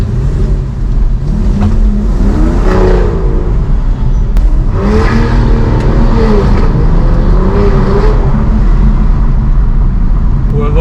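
An Aston Martin DB9's V12 engine revs and accelerates hard from inside the car, loud and continuous, its pitch climbing through several gear pulls with rising and falling sweeps.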